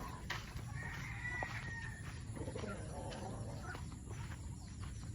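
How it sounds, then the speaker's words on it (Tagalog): Chickens cluck and murmur over a steady low background hum, with a rooster-like call rising briefly now and then. "Ay mga manok."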